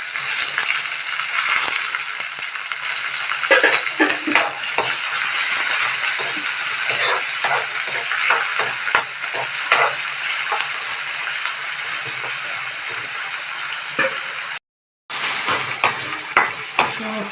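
Ginger, garlic, green chillies, coconut pieces and tomato fry loudly in a pan, a continuous close sizzle broken by repeated scraping stirs, with one brief dropout.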